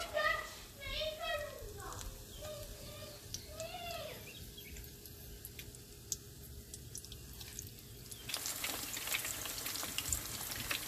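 Eggplant pakoras fry in oil over medium-high heat with a steady sizzle that grows louder and denser toward the end, alongside a voice and some high whistling tones early on.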